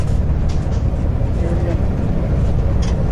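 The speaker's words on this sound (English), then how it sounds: "we're on a new bus with a new driver, and we're headed to Glenwood Springs" Inside a moving bus in downtown Grand Junction, Colorado, a steady low engine and road rumble fills the cabin without a break, loud and constant.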